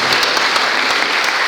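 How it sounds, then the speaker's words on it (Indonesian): A church congregation claps together in a steady, dense burst of applause, many hands close by, with no voices over it. "Beri tepuk tangan bagi Tuhan."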